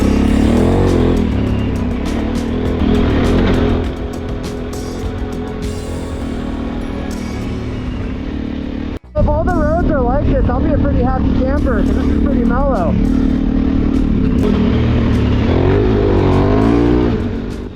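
A rented motorcycle throttles up on an Arizona road toward Sedona, its loud engine droning and revving continuously up close with wind noise, a brief dropout midway and speech over parts of it.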